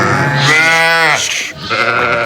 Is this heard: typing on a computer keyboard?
no